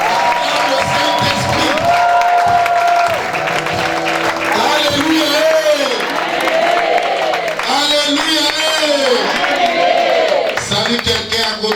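Church congregation acclaiming God with clapping, cheers and whoops, loud and close, mixed with many voices calling out over one another.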